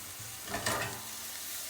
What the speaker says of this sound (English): This is all softened and sauteed nicely.